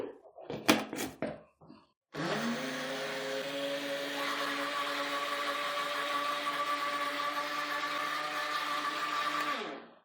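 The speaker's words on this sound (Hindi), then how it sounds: "अब हम ग्राइंड करेंगे।" An electric blender grinds yogurt and sugar for lassi, starting after a few short knocks and then running loud and steady for about eight seconds with a constant whirring motor tone.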